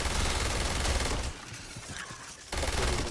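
Loud, dense gunfire rattles in a video game, drops to a quieter stretch of scattered shots, then returns at full intensity.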